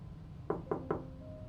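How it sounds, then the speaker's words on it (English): Three evenly spaced knocks land on a front door, muffled and fairly soft as if heard from a room inside the house, with a quiet hum beneath. "there was a knock at the front door"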